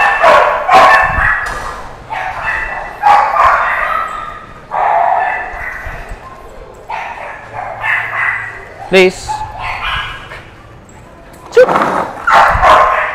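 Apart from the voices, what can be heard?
Belgian Malinois dogs barking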